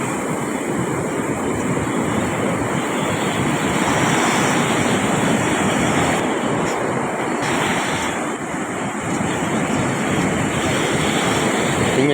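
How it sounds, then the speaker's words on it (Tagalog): Ocean waves surge and wash continuously, loud and close, with a steady roar and wind rushing across the microphone. "Nag-uumpisa na ulit sa amin ng paglaki ng alon"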